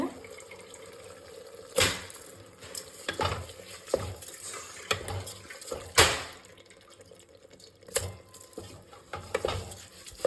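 Rice being added to spiced masala and stirred in a pan, with repeated scraping stirs and soft sizzling, several sharp clanks of the spoon against the pan, no talk.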